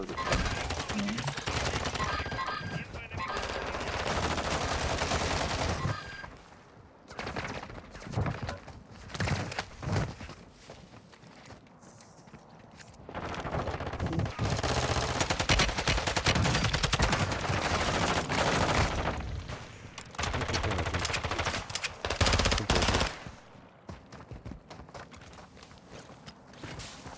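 Repeated rattling gunfire from the video game Warzone 2.0, dense bursts alternating with quieter gaps, with footsteps and mechanical game clatter mixed in and faint voices at times.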